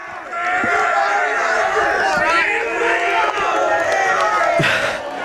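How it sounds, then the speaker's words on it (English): Baseball players yell and clap together in the dugout during a varsity game, a dense, steady wall of overlapping voices with scattered sharp claps close by. "All the players are yelling."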